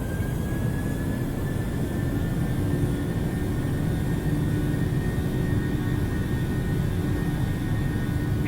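A jet airliner spools its engines up for the takeoff roll, departing Minneapolis for Denver, with a steady, loud roar and a high whine that runs through the whole stretch without talk.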